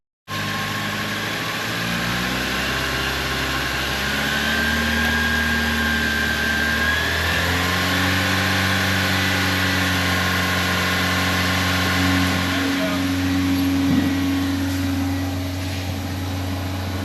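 Car engine with severe oil sludge, dosed with engine cleaner, running steadily at a fast idle of roughly 2,800 RPM; a constant even drone with a faint whine that holds close and unchanged throughout.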